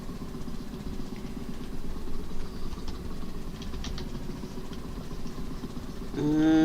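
A farming game tractor engine drones steadily, a low rumbling hum that stays constant and moderately loud throughout, swelling slightly at the very end.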